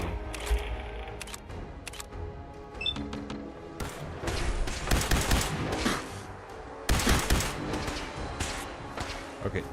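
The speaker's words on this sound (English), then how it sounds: "someone else is shooting at me" Rapid bursts of Fallout 4 gunfire crack in irregular volleys, loud and close, with clusters of shots and sharp impacts mixed among game sounds and some talk.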